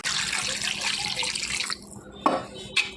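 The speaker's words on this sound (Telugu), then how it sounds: "దీనిలో వాటర్ వేసుకోవాలండి" Water poured into a pan of spiced chicken leg curry, a loud continuous gushing pour that stops abruptly, followed by two short clinks of a pot or utensil.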